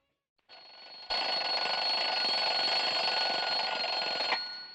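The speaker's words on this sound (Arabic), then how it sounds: "بنشوف منبه بيرن" Alarm clock ringing in the opening of the Egyptian film The Bus Driver, a softer tone starting first, then a loud continuous metallic ring that holds steady for several seconds before cutting off.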